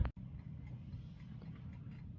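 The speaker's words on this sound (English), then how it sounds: "if you do hear some ticking in the background, I do apologize. This really cool Raven clock is going off." A raven-themed clock ticks steadily and faintly in the background of a quiet room, with a low, soft hum underneath.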